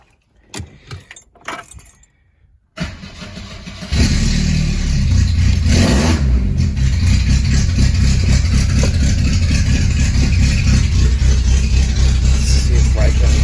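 A 1983 Volvo 242 with an AW-70 automatic gearbox, heard as keys jangle, the engine cranks and starts, then settles into a loud, steady, close running rumble that continues to the end.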